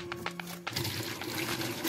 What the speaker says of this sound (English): Now you can place water into this.